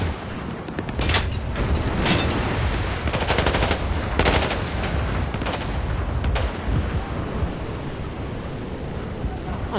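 Shotgun and rapid gunfire in the Battlefield 4 campaign mission aboard the USS Titan ship, loud bursts of shots over a roaring, wind-like background wash.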